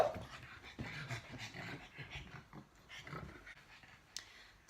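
A pug snorts and pants in a fairly steady run of short, wheezy breaths, close and at moderate volume, ending with one sharp higher-pitched snort near the end.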